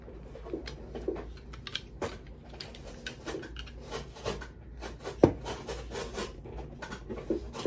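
An Amazon package holding a selfie tripod with lights is torn and rubbed open nearby, with steady scratchy cardboard and plastic rustling and a few sharper crinkles, fairly quiet and with no speech.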